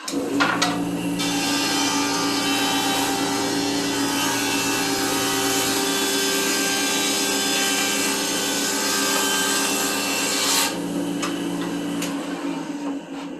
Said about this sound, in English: I'm going to put it through at a reasonable rate, and you can hear and see what the difference is